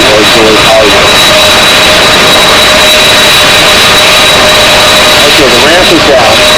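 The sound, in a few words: C-5 Galaxy aircraft engine or auxiliary power unit running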